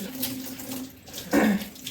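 Running water from a tap splashes steadily, swelling into a louder gush near the end, like dishes being rinsed in a sink.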